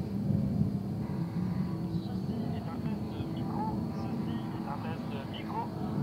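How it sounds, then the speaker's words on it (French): A distant airplane passes overhead outdoors during a DJI Mavic 2 Enterprise drone accessory test, a low continuous droning rumble under steady talking. "il y a le bruit d'un avion, tant pis"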